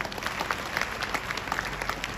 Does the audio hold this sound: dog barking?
no